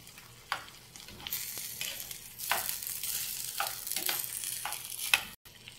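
Potatoes sizzle in a hot pan while being stirred, with soft crackling frying and repeated scraping strokes of a utensil, close and fairly quiet, with no talking.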